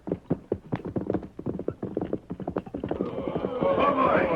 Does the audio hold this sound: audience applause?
no